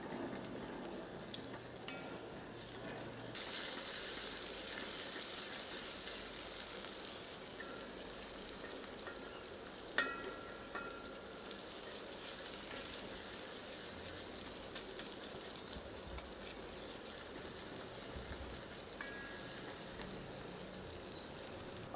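Crushed ginger, garlic and green chili frying on medium heat for spinach mutton curry, a soft, continuous sizzle with occasional light clicks of stirring, quiet and steady throughout.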